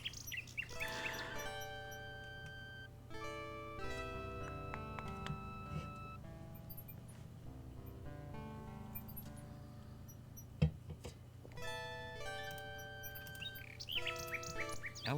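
A nightingale in the King's Quest 6 video game chirps in a run of clear, tonal, synthesized tweets and trills, repeated in short bursts over about fifteen seconds, with a faint background tone and no talking.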